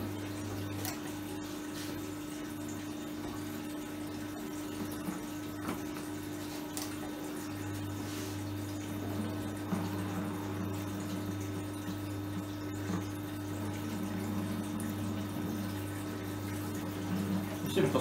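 Beer wort trickles slowly through a clogging filter during a transfer in a home brewing setup, a faint continuous flow under a steady low hum, with soft background clatter.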